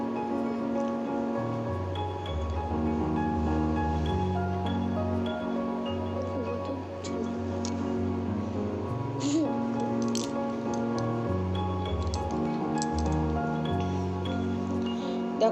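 Small prawns frying in a pan beside jackfruit cooking, a soft continuous sizzle with scattered crackles, heard under steady music that runs throughout.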